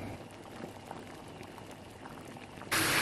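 Cold tap water runs and splashes over a pot of freshly boiled eggs in a home kitchen, a steady close hiss and patter that swells sharply louder at the very end.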